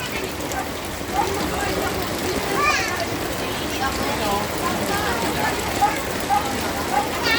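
Floodwater from Typhoon Carina, with steady rushing and splashing water mixed with rain in a flooded neighborhood, while people talk and call out nearby throughout.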